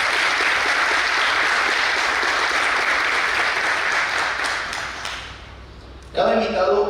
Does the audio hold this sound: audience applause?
yes